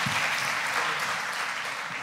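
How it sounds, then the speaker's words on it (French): Audience applause at a talk on laughter as an outlet or mediation tool, a steady even wash of clapping filling the whole stretch at moderate loudness, with no voices on top. "on peut l'applaudir"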